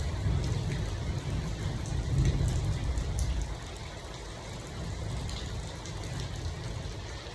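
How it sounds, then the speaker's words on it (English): Heavy December rain falls in Yenagoa, a thick, rushing downpour with a low rumbling wash beneath the hiss that swells and eases slightly; steady and moderately close, no voices. "Very heavy rain. Very heavy."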